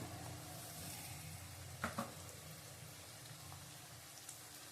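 Garlic paste frying in a pan gives a faint, steady sizzle with a couple of brief clinks of a spoon near the middle, no voices heard.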